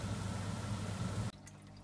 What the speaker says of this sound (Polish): Zalewam w części starą wodą z jednego z akwariów z gupikami z góry.